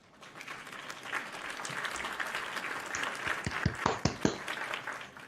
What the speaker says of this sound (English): Let's give you a round of applause for that one.